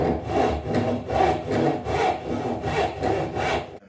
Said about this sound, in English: Now the saw is sharp, the timber's quite soft, so you don't need to put too much pressure into it